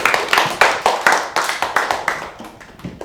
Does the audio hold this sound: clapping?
yes